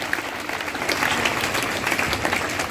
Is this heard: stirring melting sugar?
no